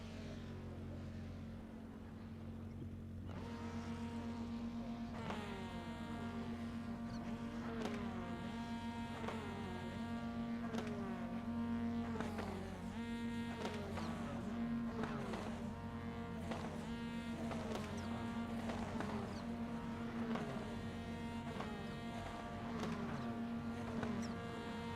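TCR touring race car in iRacing idling and revving on the grid, a steady engine drone with repeated sharp rev blips throughout, close and loud.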